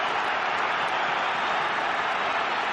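A large football crowd roars at the Nou Camp after a Luis Suarez goal for Barcelona against Atletico Madrid, a steady dense wall of cheering that fills the space with no break.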